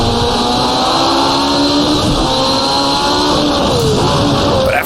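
Turbocharged 1985 CART Indy race car engine in rFactor 2, a steady high-pitched whine and drone held at near-constant revs, close and loud throughout with no talk.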